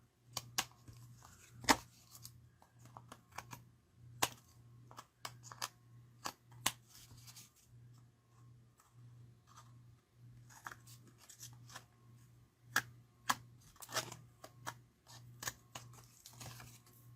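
Paper is trimmed for a handmade Stampin' Up card, making a string of sharp, quiet snips and crunches at irregular intervals over a faint, steady low hum.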